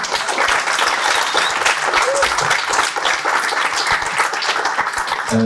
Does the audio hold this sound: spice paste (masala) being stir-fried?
no